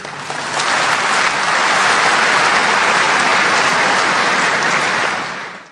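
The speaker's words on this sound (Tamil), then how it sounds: "அனைத்து பார்வையாளர்களும் அவருக்கு ஒரு பெரிய கைத்தட்டலை வழங்குமாறு கேட்டுக்கொள்கிறேன்" A big round of applause from a large seated audience at a lecture, dense and loud, swelling in quickly and sustained evenly for several seconds before tapering off at the end.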